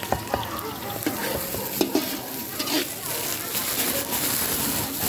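Onions frying in a pan while someone stirs them: a continuous close sizzle with scattered scraping and clattering from the stirring, and people talking over it.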